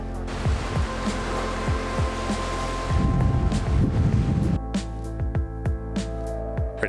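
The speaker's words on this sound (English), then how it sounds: "It's mainly the wind as well." Blustery wind on the Scottish coast at North Berwick roars steadily into the microphone, with rough buffeting gusts swelling loud midway, near and continuous, with no voices.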